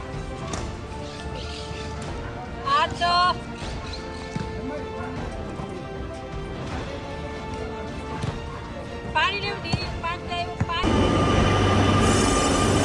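A train pulls into a station, with rumbling, clanking carriages, squealing brakes and a burst of loud noise near the end, while people chatter on the platform nearby.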